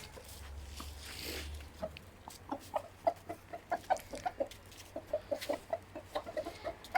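Chickens and roosters clucking in a quick, uneven series of short calls, moderately close, outdoors in snow, over a faint low rumble at the start.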